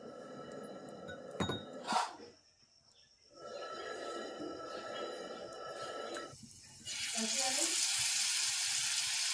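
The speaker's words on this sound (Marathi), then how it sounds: "ह्याच्यात आता थोडं थोडं पाणी टाकून मिक्स करायचं." Water is poured into kulith (horse gram) flour in a home kitchen and mixed, a few seconds of steady pouring rush between quieter stirring, ending in a louder, continuous wet rush; a voice is faintly present.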